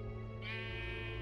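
A single sheep bleats in the video game Minecraft Story Mode, one drawn-out wavering cry over a soft steady background hum.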